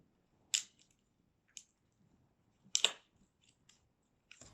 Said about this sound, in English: But I like a handy dandy, easy cut ratcheting clippers.